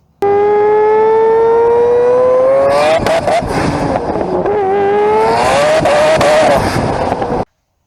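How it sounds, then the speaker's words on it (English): A high-pitched rotary engine revs loudly, its whining tone climbing steadily, then several sharp rises and drops in pitch, sustained throughout at close range. "let's talk about why the rotary engine sounds the way it sounds"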